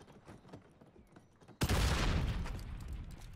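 A grenade goes off in a first-person shooter match of search and destroy, a sudden loud blast that erupts after quieter background game noise and rumbles on, dense and close, to the end.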